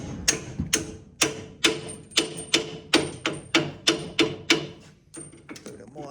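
A hammer drives U-bolts out on a 1985 Chevrolet Silverado: a rapid series of about fifteen loud, ringing metallic blows, close and evenly paced, pausing briefly near the end.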